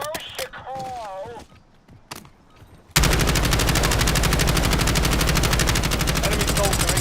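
Sustained rapid automatic gunfire from Black Ops 6 Warzone on the Verdansk map, loud and continuous after a brief stretch of game voice lines and effects.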